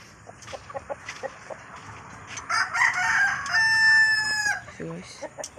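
A backyard rooster gives one loud, drawn-out crow close by, preceded by scattered soft clucks from the small flock, with quiet clucking after it fades.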